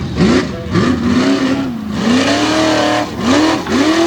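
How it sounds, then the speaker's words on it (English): Modified trucks race at a Tuff Trucks event in Windsor, PA, a Jeep-frame Bronco with an 800 horsepower engine against a Windsor-powered F-150, engines revving hard in rising, falling sweeps with brief dips between gear changes. "That's Mike Loophole, the Warhorse, with the Jeep frame, the big 800 horsepower engine, taking on the Windsor-powered F-150."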